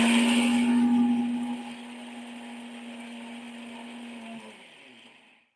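A mixer grinder runs in one short burst to grind ingredients for fasting medu vada, starting with a loud whine, easing to a steadier hum, then spinning down to silence.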